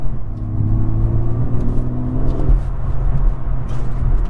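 A BMW M240i turbo accelerating, heard from inside the cabin as a loud, steady low engine drone and road rumble with a rising whine, continuous and close.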